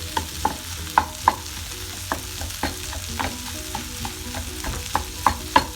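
Tuna and onions being stirred and mashed in a pan with a spatula, giving repeated sharp scraping knocks in an irregular rhythm over a low steady sizzle, close and fairly loud with no talking.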